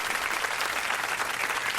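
Audience applause, a loud, dense and continuous roar of clapping from a crowd that stays even and close throughout.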